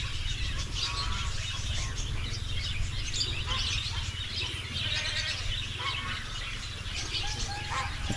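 Pigeons call continuously over a steady low hum, their overlapping coos and chirps filling the whole stretch.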